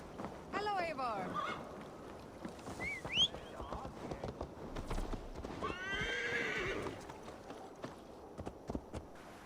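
Horse hooves clip-clop steadily in Assassin's Creed Valhalla, broken by two bright, rising whinnies near the start and a longer neigh midway, with faint background sounds and a little talk.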